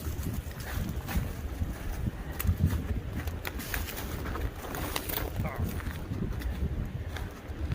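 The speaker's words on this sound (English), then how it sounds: "This wind can stop anytime now." Gusty wind blowing through maple woods during sap tapping season, a steady rushing roar with buffeting on the microphone, close and fairly loud, with occasional faint chirps.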